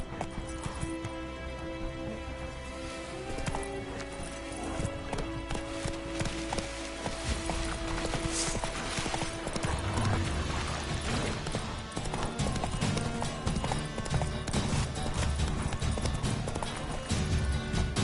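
Horse hooves in a video game, the mount Roach trotting with steady, rapid clip-clop beats that continue throughout over a dense game soundscape of music and ambience.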